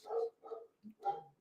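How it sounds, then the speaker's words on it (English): A dog barks four times in a short, uneven burst, moderately close and fairly clear against a quiet background. "You hear my dog barking in the background."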